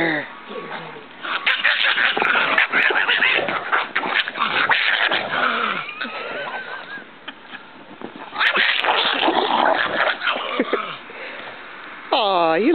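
Pug and another dog playing indoors, with yips, whines and excited vocal squeals in bursts over several seconds, up close, while someone talks and eggs them on throughout.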